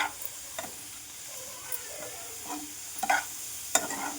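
Grated carrots frying in ghee for carrot halwa, a low sizzle broken by a few close spoon scrapes and stirs, short and fairly quiet with no speech.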